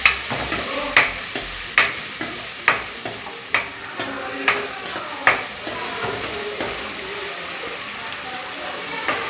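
Spices for Mumbai-style pav bhaji crackle as a tempering sizzles in hot oil, with a spoon scraping the pan in a regular rhythm of about one stroke per second over a steady fizz.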